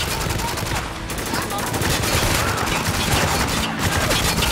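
Continuous heavy gunfire in Spec Ops: The Line, a dense unbroken stream of loud shots and crackling fusillade filling the whole stretch, with brief dips in intensity.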